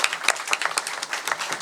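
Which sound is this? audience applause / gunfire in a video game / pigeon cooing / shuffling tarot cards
audience applause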